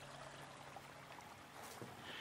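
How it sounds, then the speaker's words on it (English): A small creek runs down off a mountain behind a Kentucky log cabin, giving a faint, steady wash of trickling water with no clear breaks, heard from some distance. "And you got a little creek that comes down off of the mountain behind you."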